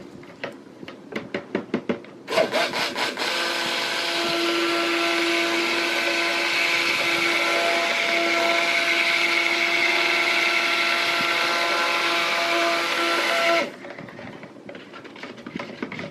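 An electric stick blender whirs loudly and steadily for about eleven seconds as it mixes berry soap batter in a pot. A few short knocks come before it starts, and quieter handling noises follow once it stops.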